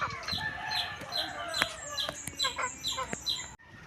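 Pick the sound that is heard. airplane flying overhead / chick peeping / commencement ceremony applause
chick peeping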